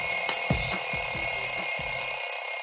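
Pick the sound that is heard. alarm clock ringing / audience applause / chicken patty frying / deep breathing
alarm clock ringing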